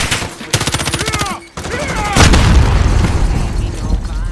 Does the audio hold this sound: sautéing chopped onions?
no